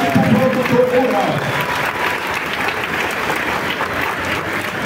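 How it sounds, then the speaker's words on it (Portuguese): Applause for rural producers from the audience at an official ceremony with state governors, dense clapping that runs steadily throughout, with a voice heard briefly at the start over the claps. "Uma salva de palmas aqui para o produtor rural."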